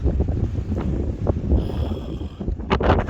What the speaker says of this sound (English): A wee bit breezy again this morning